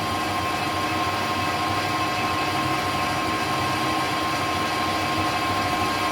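A steady machine drone hums continuously with a whining tone from an 8mm drill spinning in a lathe, loud and unbroken throughout.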